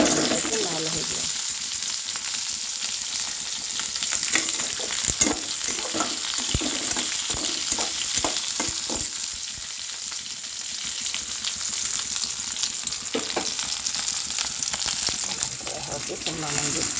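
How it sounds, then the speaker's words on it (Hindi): Chopped onion frying and sizzling in a pan, with occasional stirring scrapes and clicks over a steady hiss throughout; no talking. "प्याज 2 मिनट फ्राई है लाल हो गया"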